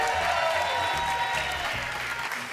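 A French game-show studio audience applauds, a dense steady clapping throughout that fades slightly toward the end, with no talk over it.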